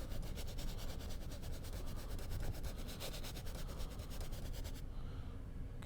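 A paintbrush scrubs acrylic paint onto canvas in quick, rhythmic back-and-forth strokes, soft and close. It stops near the end, leaving a faint hiss.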